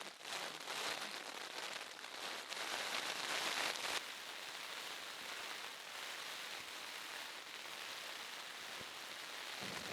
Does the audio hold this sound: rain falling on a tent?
yes